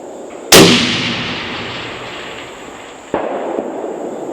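A Bergara hunting rifle fires one loud, sharp shot that rings and decays. About two and a half seconds later a fainter, distant crack follows as the bullet strikes a man-sized steel target at 1,000.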